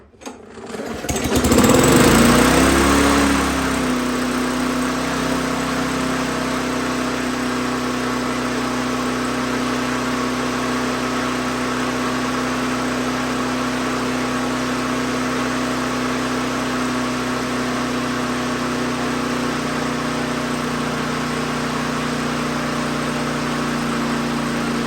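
A lawn mower engine with an uncleaned carburetor catches and settles into a steady, loud running drone close by, holding an even pitch after a rough start.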